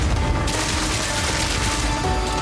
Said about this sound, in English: Just unload a magazine of armor-piercing rounds into them.